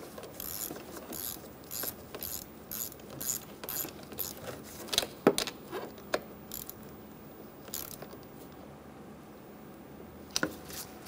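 A ratchet clicks in short, quiet bursts as it snugs down the negative battery terminal on a 2003-2007 Honda Accord, with small clinks and brief pauses between strokes.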